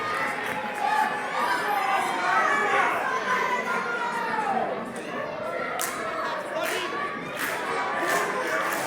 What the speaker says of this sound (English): Dylan Davis trying to get the crowd fired up, and it's working.